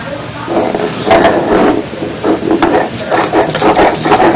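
Periwinkle flowers are ground into a paste, giving close, continuous scraping and rubbing strokes with an uneven rhythm and no voices.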